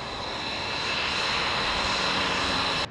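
An F-22 Raptor fighter jet streaks through the sky with a loud, steady broadband roar that holds for about three seconds and then cuts off abruptly.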